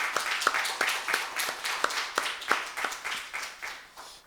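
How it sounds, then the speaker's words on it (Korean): Congregation claps for the pastor at a church praise service, a steady run of sharp, evenly spaced claps about three per second, fairly close and moderately loud, with no voices over them. "감사의 박수 하십시오."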